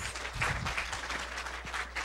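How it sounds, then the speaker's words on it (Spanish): An audience at an academic talk on Latin American affairs gives a short burst of applause, a dense crowd clapping for about two seconds with a faint low murmur underneath. "Le damos un aplauso, por favor."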